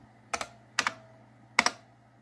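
Keys on a computer keyboard pressed in three quick paired clicks, close and fairly quiet, separated by short pauses.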